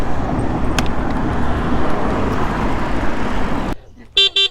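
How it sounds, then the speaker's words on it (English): A loud electronic buzzer of a WAU Cyber e-bike horn sounds in two short bursts after rumbling traffic noise cuts out. "that buzzer is nice and loud"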